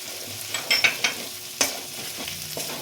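Prawn curry masala in coconut milk, cooked down until the oil separates, sizzles steadily in a pan while a spoon scrapes and stirs in several short bursts, close and moderately loud.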